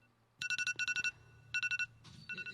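A mobile phone ringtone goes off in bursts of rapid electronic beeps, two repeated groups, then a pause and another group, heard close and clear in a quiet room.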